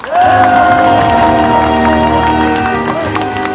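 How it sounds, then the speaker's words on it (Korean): A crowd at a political rally claps and cheers loudly, with shouting voices and whoops over sustained applause, close and dense throughout. "뜨거운 박수를 부탁합니다."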